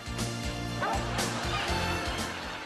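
A dog barks and yips in quick, loud bursts, several close sharp yelps tumbling over one another with a whimpering edge, amid a busy comedic scene.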